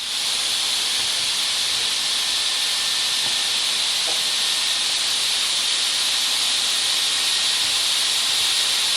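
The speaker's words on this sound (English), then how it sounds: "the fan is a lot louder than I anticipated it being" Steady, loud whirring hiss from a small brushless-motor cooling fan on a Tamiya Plasma Edge II RC car, spinning at high speed, continuous and close, with no talking.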